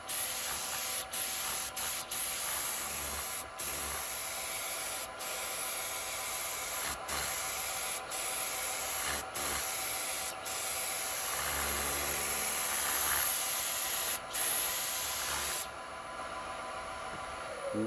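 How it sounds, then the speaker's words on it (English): Spray can misting red paint onto a wooden Christmas bauble in a woodturning workshop, a steady loud hiss in long bursts broken by brief pauses, running alone without voices. "Right, we're going to spray it red."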